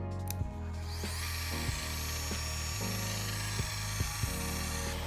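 A car polisher on an extension shaft whirs steadily while buffing a minivan's paint, a close, continuous motor whine with small dips and bumps as the pad moves.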